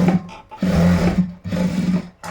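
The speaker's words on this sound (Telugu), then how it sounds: "ఇక్కడ మనకు జోబి అనేది ఓపెన్ కాకుండా ఒక పైనుంచి ఒక కుట్టు అనేది వేస్తున్నాను" A sewing machine stitches across the top of a pocket on thick cloth for boys' school uniform shorts, running in two close, loud bursts separated by short pauses.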